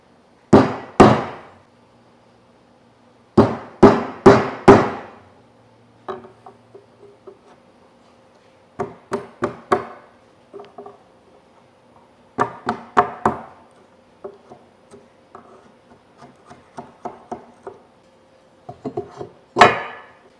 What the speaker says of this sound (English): Simple enough, hammer and chisel time.